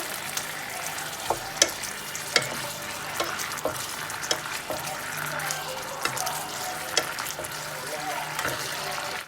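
Red curry boils in a pot with a steady, close bubbling hiss, broken by occasional soft pops and clicks.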